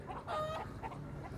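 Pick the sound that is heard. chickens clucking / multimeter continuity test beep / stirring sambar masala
chickens clucking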